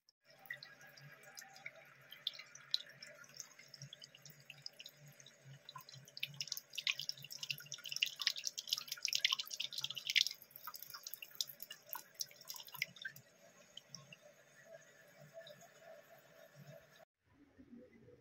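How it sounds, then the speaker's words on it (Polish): Nitric acid poured into water in a home lab while recovering gold from electronics, a faint steady trickling pour with scattered drips and splashes for most of the stretch, stopping near the end, no speech. "Do 100 ml wody wlewamy 100 ml kwasu azotowego"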